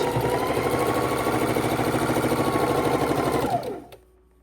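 A sewing machine chain stitching quilt top seams of half square triangle scraps, running at steady speed with a dense rhythmic whir and clatter, close and loud, then winding down and stopping near the end.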